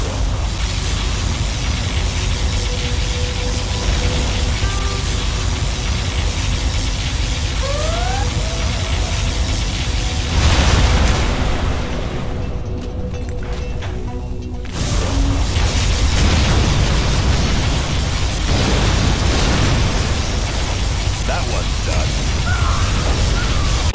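A particle cannon fires in Command & Conquer Generals Zero Hour, a sustained loud roaring blast with booming explosions that briefly drops away before the rumble resumes, dense and continuous throughout.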